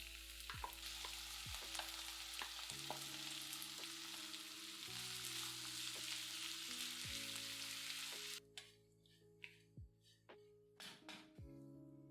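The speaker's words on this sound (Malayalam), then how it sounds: "പിന്നെ നുറുക്ക് ഗോതമ്പ് ഇട്ട് 2-3 മിനിറ്റ് ഫ്രൈ ചെയ്യുക" Broken wheat frying in a pan for upma gives a continuous close sizzle broken by several sharp spatula knocks and scrapes, then the sizzle cuts off, leaving a few spaced clatters.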